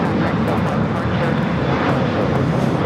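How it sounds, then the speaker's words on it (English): A Southwest Airlines Boeing 737-700 roars on its takeoff roll at Los Angeles airport, a loud, steady broadband jet rumble filling the whole stretch without letup. "That is Southwest Airlines 3317 taking off to Phoenix on the 737-700"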